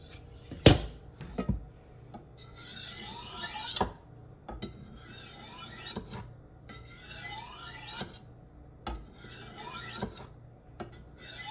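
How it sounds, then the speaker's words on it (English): A CoquusAid kitchen knife is honed in repeated strokes, bright scraping rasps with a few sharp metallic clinks, fairly close and steady, with no talking. "This is the safest way to hone knives so that you're not possibly injuring yourself or anybody else."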